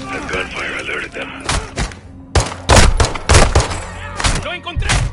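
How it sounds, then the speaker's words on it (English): Bursts of video game gunfire ring out repeatedly, with sharp, heavy shots and short volleys scattered across a busy, echoing game soundscape. "The gunfire alerted them."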